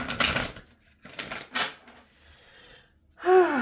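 A deck of cards is shuffled for a reading in several quick riffling bursts separated by short pauses, followed by a brief breathy vocal sound at the end.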